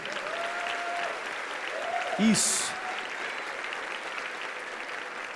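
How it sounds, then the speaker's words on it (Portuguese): Church congregation clapping loudly during a worship service, a continuous wash of hands filling the room while a voice briefly calls out over it midway. "Vamos aplaudir forte, igreja."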